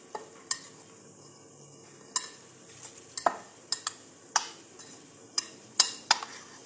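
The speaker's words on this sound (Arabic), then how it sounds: "كنخلطوا مزيان" Couscous semolina is mixed by hand with salt and water, making quiet grainy stirring with scattered sharp clicks and taps against the dish at an uneven pace.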